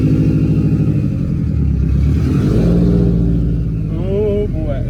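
A Subaru WRX STI turbo engine with a Cobb Stage 2 tune revving loudly and close, a deep droning rise that eases off near the end, followed by a brief high whistling note.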